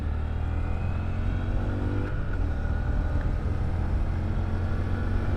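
A 2022 Honda Grom motorcycle engine drones steadily during a ride, with a low, constant buzz and heavy wind rush, and a slight shift in engine tone partway through.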